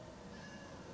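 A cat meows in a short, faint call, heard briefly over a fairly noisy background with no clear speech.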